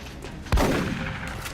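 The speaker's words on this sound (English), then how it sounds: "I have to make sure I shoot at this guy, not the easier target to hit" A single sharp gunshot in the XCOM Long War video game, a hard crack with a booming low tail that decays over about a second.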